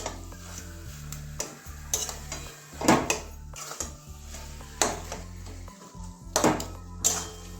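Garam masala gets stirred into kochu shak in a cooking pan, a spoon scraping and clanking against the metal in repeated uneven strokes, close and fairly quiet.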